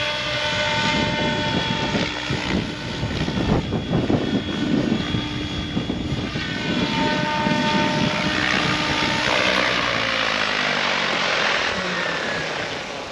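A Goosky RS7 RC helicopter spools up and flies nearby, its loud whining rotor and motor tone holding steady with rising and falling pitch sweeps throughout.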